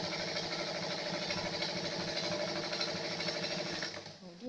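A sewing machine stitches the side seam of a shawl-collar dress, giving a steady, fast, close-up mechanical whir and chatter that runs loudly for about four seconds before briefly easing near the end.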